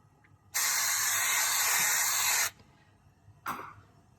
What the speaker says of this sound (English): I'm going to spray them with some pure avocado oil